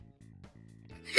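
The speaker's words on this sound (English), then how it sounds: "Sorry, y'all, if I sneeze too much." A single sharp sneeze bursts out loudly at the end after a brief humming, nasal voice, close to the microphone.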